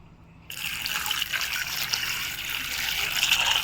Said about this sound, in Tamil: இப்போ வாஷ் பண்ணுறதுக்கு நம்ம கொஞ்சம் தண்ணி ஊற்றிக்கலாம்